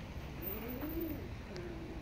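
A pigeon gives a soft, low, rolling coo, one drawn-out call and a shorter one, faint against a quiet background.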